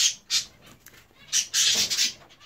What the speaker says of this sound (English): So these are two of my zebrafinch pairs.